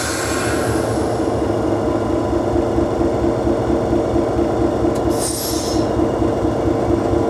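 A Class 66 diesel locomotive rolls backward after its brake is released, heard from inside as a loud, steady engine and rail rumble with a brief higher hiss or squeal midway.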